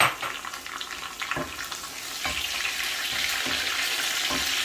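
Curry leaves and red peppercorns dropped into hot oil with browned onions, a steady bright sizzle and crackle with a few sharper spits, close up and continuous, with no talking.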